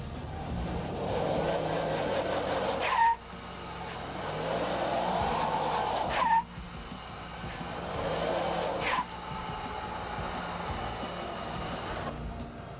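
A four-wheel drive Toyota Tacoma fitted with an Eaton G80 locking differential driving, a steady engine drone with three surges or bumps spaced a few seconds apart, moderately loud and continuous, without speech.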